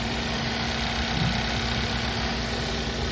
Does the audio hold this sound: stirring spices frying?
no